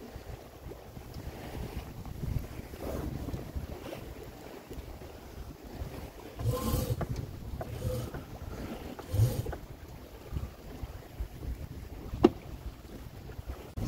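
Reefed mainsail flapping and flogging on a sailboat under way, irregular rustling bursts and snaps over constant wind noise on the microphone and water.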